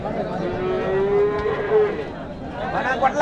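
A cow gives a long, drawn-out moo at a livestock market in Uthangarai, against a busy background of crowd murmur and other animal noises.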